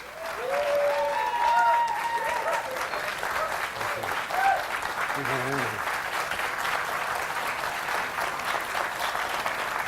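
An audience in a tent applauds to welcome a speaker, sustained thick clapping that holds steady for ten seconds, with brief whoops and a low voice briefly heard beneath the crowd.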